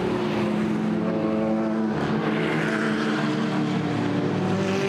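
GT4 race cars running behind the safety car at Brands Hatch, with a loud, steady engine drone and a rising and falling pitch as cars pass, and no voices.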